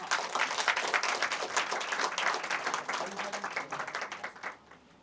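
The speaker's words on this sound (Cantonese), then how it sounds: "掌聲恭賀！" Audience applause at a short film festival award ceremony: dense, steady crowd clapping that holds evenly, then thins and fades toward the end.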